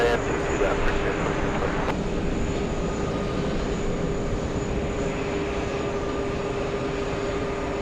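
A heavy Boeing 747 lands at JFK airport, its engine roar a steady, broad rumble that holds at an even loudness, with radio-like chatter mixed in near the start.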